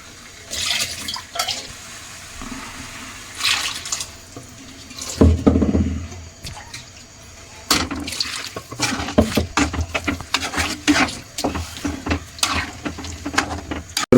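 Water splashes and gurgles in bursts as it is poured into a pot of jackfruit curry, with intermittent clinks and handling noises nearby.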